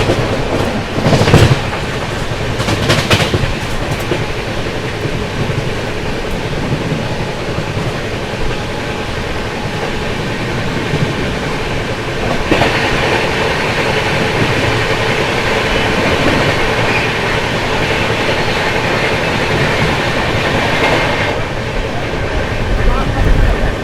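A passenger express train, the Mahakal Express, rolling past a special passenger train, giving a steady loud rumble of wheels and carriage rattle with rhythmic clickety-clack and a few sharper bursts, close and continuous.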